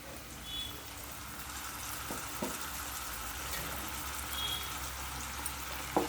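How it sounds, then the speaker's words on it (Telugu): Tomato gravy sizzles and fries steadily in a pan as it goes into a fish curry, a continuous close hiss with a few faint clinks and stirs and no talk. "ఇందులోకి మనం గ్రేన్ చేసి పెట్టుకున్న టమాటా గ్రేవీని వేస్తాము"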